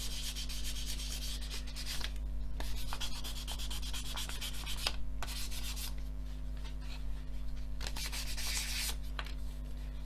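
Grainy Airfix plastic model kit parts are polished by hand, producing steady rubbing and scratchy sanding strokes up close, with a constant low hum underneath.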